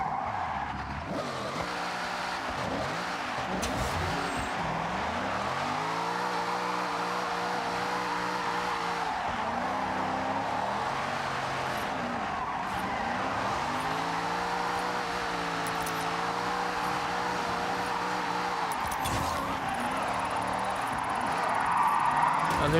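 An Audi RS race car in Forza Horizon revving through repeated rising and falling engine sweeps, with long stretches of tire squeal and skidding as it slides through turns, loud and close throughout.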